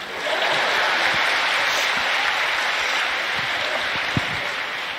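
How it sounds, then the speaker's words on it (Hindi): A large audience claps together at an indoor talk event, a dense sustained wash of applause that holds steady at moderate loudness before easing slightly at the end. "मारो ताली, तब मार लो"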